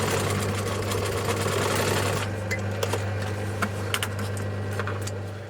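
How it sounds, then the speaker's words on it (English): A sewing machine stitches piping onto a white faux leather storage ottoman top, running as a steady close mechanical whir for about two seconds, then stopping, with lighter handling clicks and faint hum following. "I'm just going to get the piping now sewn on"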